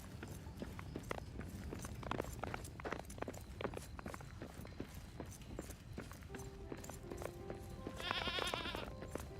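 Goat bleating in the video game Return to Moria, a short high bleat near the end over busy footstep-like clatter and game ambience.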